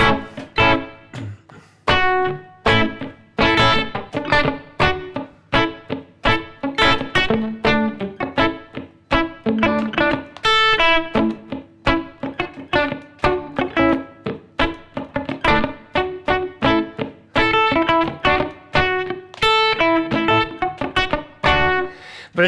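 Clipped, palm-muted electric guitar chords from a song strummed in a steady chugging rhythm, with occasional single notes ringing out between them, played alone and up close.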